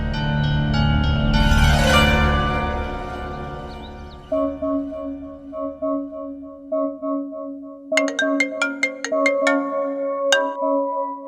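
A phone rings with an incoming call, a melodic ringtone repeating in steady bursts, loud and close, after an opening swell of background music.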